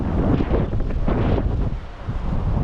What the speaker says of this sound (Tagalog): malakas yung hangin nito